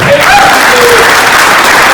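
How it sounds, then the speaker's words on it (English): Fans applaud together in a steady, dense wash of clapping that holds evenly for the whole stretch, with faint voices mixed in. "So please give yourselves a round of applause."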